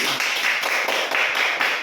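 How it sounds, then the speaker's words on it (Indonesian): A small group of students in a classroom claps for group 1, a brief burst of fairly evenly spaced hand claps that stays close and moderately loud for under two seconds. "Tepuk tangan untuk kelompok 1."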